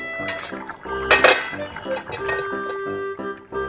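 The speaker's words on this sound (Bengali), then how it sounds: "এবার ঢাকনা তুলে দেখে নিই কতটা কী হলো" A lid is lifted off a pot of simmering kasuri methi chicken, giving one short, bright clink in the middle, with faint tonal background music underneath.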